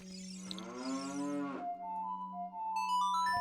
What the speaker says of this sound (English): Because I think this still has a cow in it.